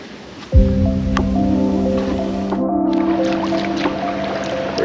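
A kayak dragged down toward the water on a Georgia-to-Florida coastal trip, heard as a sudden onset of a steady scraping, grinding drag that continues loudly and close for several seconds with no talking.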